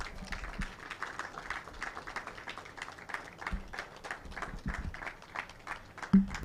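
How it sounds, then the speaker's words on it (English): An audience applauds a presenter at a report-launch event for maternal health care services, steady scattered clapping that runs throughout at moderate level, with a heavier thump near the end. "A round of applause for him before he gets to his seat, ladies and gentlemen."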